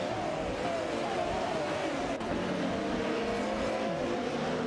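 Race cars, including a Porsche 911 GT2 and a Bugatti EB110, roar through a video game race in a continuous loud engine drone with shifting pitch, sounding alone and unbroken.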